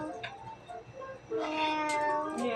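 A cat meows several times, the calls growing louder and more insistent in the second half, heard close by in a room during a casual meal.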